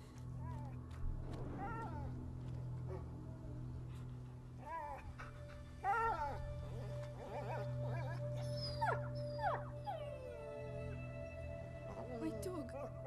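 A dog in the video game A Plague Tale whimpers and lets out short wavering howls, faint and repeated, over a low ambient hum with occasional voices.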